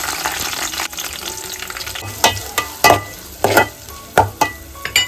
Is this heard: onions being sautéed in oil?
yes